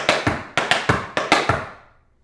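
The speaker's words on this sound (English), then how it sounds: "It's always 4 flap heels." Tap shoes strike a wooden floor in a crisp run of flap heels, sharp close taps grouped in quick pairs at an even tempo and fading out at the end, with no talking.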